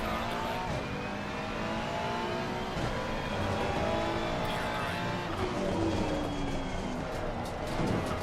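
A race car engine in a racing video game drones and revs continuously with shifting tones, other cars audible around it, a steady layered motor sound throughout.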